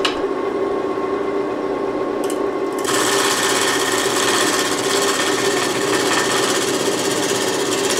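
Wood lathe spinning a mahogany bowl blank on a worm screw chuck, a steady mechanical whir joined by a sudden hissy cutting sound as the tool meets the outside edge.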